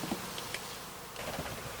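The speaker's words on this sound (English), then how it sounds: "There was a lot of bees there." Bees swarm around an opened hive, a steady close buzzing drone with brief louder passes as individual insects fly near.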